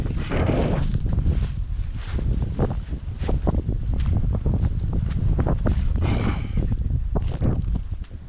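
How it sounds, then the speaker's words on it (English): Strong wind buffets the microphone outdoors in woods for the whole stretch, giving a loud, rumbling roar with gusty surges and no one speaking. "Windy today, guys."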